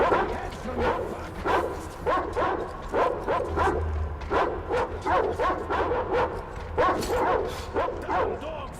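A dog in the video game Metro Exodus barks and whimpers in a rapid string of repeated yips and bow-wows over a low rumbling game background, with no talk.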